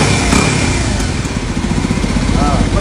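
A Kawasaki Ninja 250cc motorcycle engine runs steadily up close, loud and continuous, with a voice talking over it.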